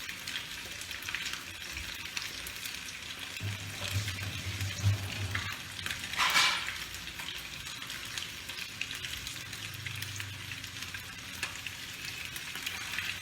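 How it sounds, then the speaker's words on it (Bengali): Katla fish frying in hot oil, a steady broadband sizzle with occasional stirring scrapes and a brief louder crackle midway, close and continuous with no talk. "মাছ ভাজাটা হয়ে এসছে, এবার আমি মাছ ভাজাটা তুলে রাখবো"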